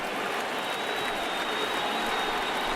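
A baseball stadium crowd of more than 27,000 rises to its feet, producing a dense, steady roar of cheering and applause that holds at full volume throughout.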